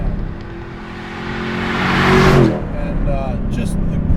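A 2015 Chevrolet Camaro Z28's engine revs up to a rising whine, peaks and drops off sharply before climbing again, heard close from inside the car.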